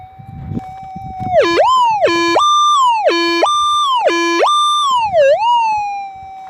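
A metal detector's signal tone sounds over a target hole on a gold prospecting dig: after a quiet start with low rustling, a loud electronic tone swoops down and back up four times in a steady rhythm, then dips once more more softly.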